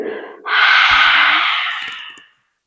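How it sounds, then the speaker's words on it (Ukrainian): A slow, deep breath during a guided breathing exercise: a short intake, then a long, strong airy exhale that fades gradually, close to the microphone and without talk. "Трошки вдих. Видих. Вдих. Видих."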